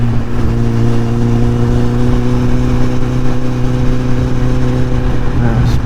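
Motorcycle engine running steadily and close on a ride through south-east France, a loud sustained drone with a constant low hum and only slight shifts in pitch.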